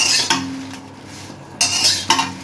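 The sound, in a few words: frying dried red chillies in a pan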